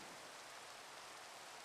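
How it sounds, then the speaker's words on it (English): Steady rain falling in a modded Minecraft skyblock world, a faint, even wash of hiss with no breaks and no voices. "Oh, oh, it's raining."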